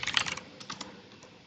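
Git push command typed on a computer keyboard: a quick burst of close, crisp key clicks followed by a few slower, fainter taps.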